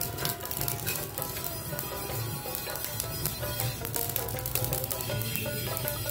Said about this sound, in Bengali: এখন দিয়ে দিব জিরাটা, দিয়ে দিব পাঁচফোড়ন, একসাথে সবকিছু ভেজে নেব।